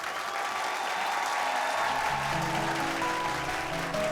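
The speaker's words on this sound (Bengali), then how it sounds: "তো জোরে হাততালির মাধ্যমে স্বাগত জানাই আমাদের ইনভেস্টিং টাইটেলসদের" A studio audience on a startup pitch show applauds steadily to welcome investors, a dense, continuous wash of clapping with a tonal music bed emerging underneath partway through.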